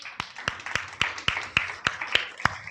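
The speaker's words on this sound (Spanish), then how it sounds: "¿Cuántos podemos darle un aplauso fuerte?" A church audience claps in a slow, even rhythm, one sharp clap about every quarter second, close and distinct rather than a full roar of applause.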